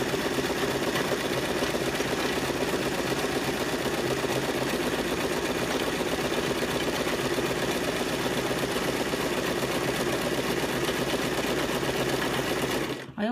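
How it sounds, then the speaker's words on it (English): A sewing machine sewing a long run of satin stitch on a memory cushion hums continuously and steadily up close, stopping abruptly at the end. "finish this run of satin stitch"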